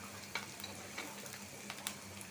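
Sliced onions frying in a pan for a chicken bhuna, giving a faint, steady sizzle broken by a few small pops and crackles, with no talking.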